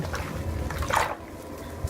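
Hot water swirled around in a bucket sitting in a bathtub, a continuous sloshing and dripping wash close by with a brighter splash midway.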